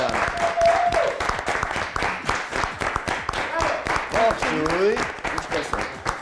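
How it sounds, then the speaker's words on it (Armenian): A studio audience at a television cooking show claps steadily and loudly throughout, with a host's voice talking over the applause. "եկեք շատ բարձր ծափահարենք նրան։"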